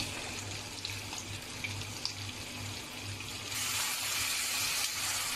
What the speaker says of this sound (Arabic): وبعد كده ضفت عليهم كوبايه ميه مغليه.